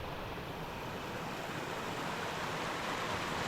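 A forest river flows past the bank in a soft, unbroken rush of water, fairly faint and even, with nothing else rising above the wash.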